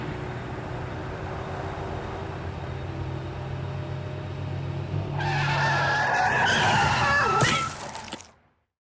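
A car approaches and passes on a road, its tyres squealing and skidding as it goes by, rising from a low rumble to a sharp, loud screech before cutting off abruptly.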